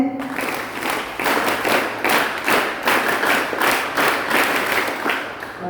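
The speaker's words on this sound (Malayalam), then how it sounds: "ഒന്ന് കൈയടിച്ചേ" A school closing-ceremony audience claps together in a steady rhythm, repeated loud bursts of hand claps keeping time, close and full, with no talk.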